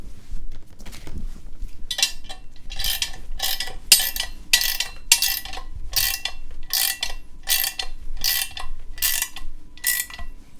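Ratchet wrench tightening a nut onto the assembly post of a Full Tilt Chuck Bucket base, giving a close series of about a dozen quick, regular clicking strokes over faint background hum.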